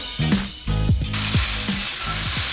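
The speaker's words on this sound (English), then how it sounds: "iron skillet at a very high heat, and just flipping it once to sear it on both sides" A steak sears in an iron skillet over very high heat, giving a loud, close, steady sizzle with a hissing wash that builds and holds throughout.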